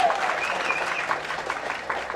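An audience at the Saamaniyan film teaser launch and press meet breaks into loud applause, a dense burst of clapping from a crowd filling the short moment.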